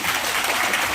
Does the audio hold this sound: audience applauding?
yes